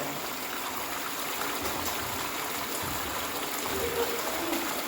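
A cave stream in the caverns at Natural Bridge, Virginia flows and trickles steadily with a constant rushing babble, close by and unbroken, echoing slightly in the enclosed space.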